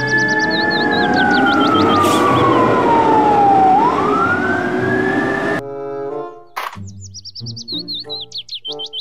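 A toy fire truck's siren wails up and down with bright chirping tones layered on top, then stops abruptly, leaving a few brief bleeps and chirps.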